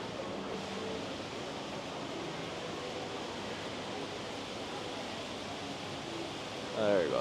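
Indoor decorative waterfall at ICONSIAM shopping mall in Bangkok, a steady, faint wash of falling water that hisses evenly throughout, with a brief tonal sound near the end.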